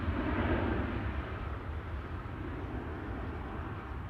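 A jet airliner departs Amsterdam Schiphol Airport with a steady, broad roar at moderate distance that peaks early and then eases slightly as it climbs away.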